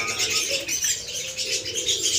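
Many birds at a bird-selling kiosk near a fruit market chirp and tweet busily, with pigeon-like cooing and some wing flapping, a close, dense chorus without speech.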